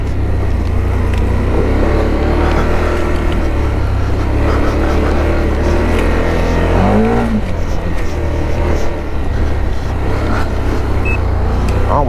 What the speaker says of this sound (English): it's good when you're in thick mud and stuff like that, but it just revs so friggin' high